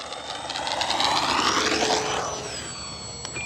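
An FMS T-28 Trojan 800mm RC model airplane passes with a loud electric motor whine whose pitch swells as it nears and then sweeps downward as it moves away.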